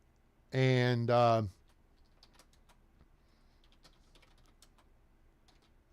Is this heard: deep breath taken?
no